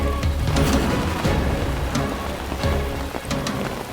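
Heavy rain pours down in a steady, dense wash of sound, loud and close throughout, with a few sharper splashes and no voices.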